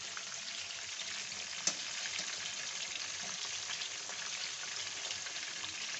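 Fish frying in a pan over medium heat, a steady dense sizzle that stays even and close throughout, with one brief click partway through and no talking.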